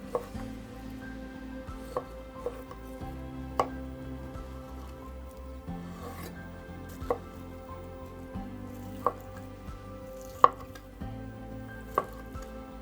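A knife cutting ham into cubes on a board for a hot sandwich, with sparse, irregular taps heard over gentle background music.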